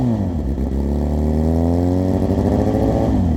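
A loud Suzuki GSX-R 750 K8 motorcycle engine revs up and down close by, its throaty exhaust rising in pitch through several throttle blips.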